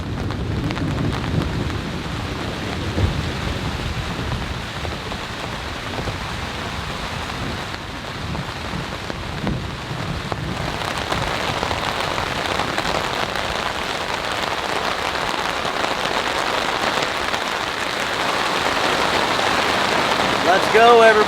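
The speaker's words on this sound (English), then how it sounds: "It is absolutely pouring out there, but yet we're staying dry." Heavy rain pours onto a Japanese tent during an intense thunderstorm, a dense continuous drumming on the fabric that swells louder toward the end, with faint thunder underneath.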